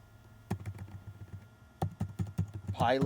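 Quiet computer keyboard typing comes in two quick bursts of rapid key taps, the second burst running into a brief voice at the end.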